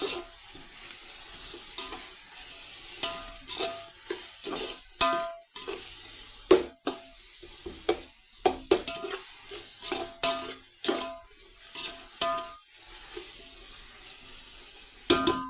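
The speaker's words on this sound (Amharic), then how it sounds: "እዚህ ጋር ሽንኩርታችን እየበሰለ ነው።" Onions cooking in a pot, a repeated clatter of a utensil stirring against the pot over a soft sizzle, close and uneven in rhythm.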